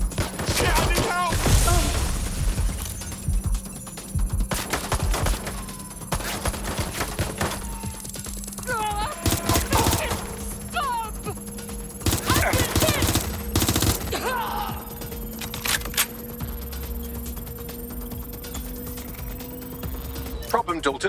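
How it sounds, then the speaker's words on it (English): Rapid bursts of automatic gunfire crackle through a Watch Dogs: Legion firefight, loud clusters of shots coming in repeated volleys, with voices talking between them and a steady hum underneath. "Target is firing!"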